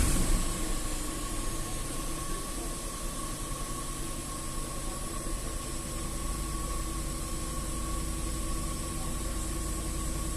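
A Range Rover 4.2 V8 idles cold with misfires, a shake and a knock from the supercharger, giving a loud, steady, close engine drone with a faint constant whine and no talking.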